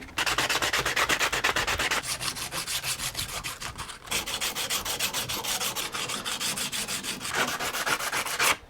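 Coarse 60 grit sandpaper worked by hand on a gun part during a restoration, a steady rhythmic back-and-forth rasping in long strokes with brief pauses, close and loud, no talking.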